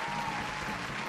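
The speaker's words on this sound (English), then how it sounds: "Can everyone give a round of applause for them?" An audience claps for the teachers at a school quiz game, a brief, dense burst of applause from a crowd in a room.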